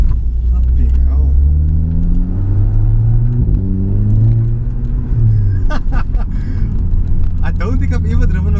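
Audi TTS engine pulling hard under heavy throttle, a loud sustained drone whose pitch climbs and resets through gear changes, with people talking over it inside the car.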